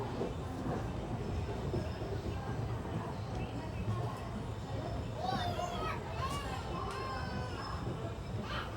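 The Koyna Express rolls out of Kalyan Junction toward Karjat, a continuous low rumble of wheels on rails heard from inside a crowded coach, with passengers' voices and chatter mixed through the steady noise.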